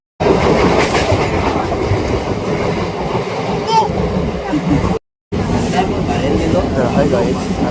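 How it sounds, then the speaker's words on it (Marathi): Loud, close interior rumble of a moving Mumbai local train, with continuous wheel-and-track roar and rattling carriages filling the whole clip, a brief cut midway, and faint voices blended into the din. "आता आपण ट्रेनमध्ये बसलोय"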